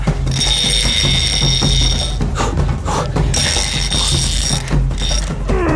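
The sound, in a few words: fishing reel drag clicking as giant catfish pulls line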